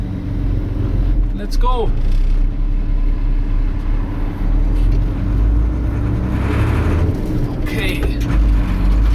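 An old Volvo fire engine idles and pulls away, its engine giving a steady low rumble close by throughout, while people talk over it.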